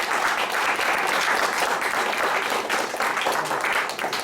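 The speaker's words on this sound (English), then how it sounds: "you got a big round of applause" Sustained applause from an audience at a college student showcase, dense steady clapping held at an even, loud level from start to finish with no voices over it.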